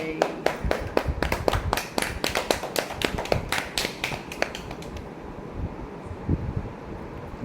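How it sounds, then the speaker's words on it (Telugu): A small group clapping for a sister's birthday song at home, giving quick, uneven hand claps up close for about five seconds before they fade into faint background noise. "క్లాప్స్ కొట్టండి, క్లాప్స్."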